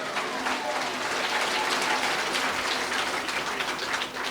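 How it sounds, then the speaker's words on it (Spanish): Church congregation breaking into loud applause during a service, a dense continuous clatter of many hands filling the whole stretch at close range, briefly easing near the end. "Fuerte aplausos iglesia"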